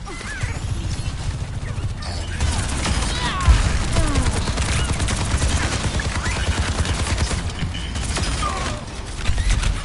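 Dense, continuous gunfire and clattering weapon mechanics in the video game Overwatch, a loud, unbroken barrage of rapid shots with a mechanical creak throughout the mix.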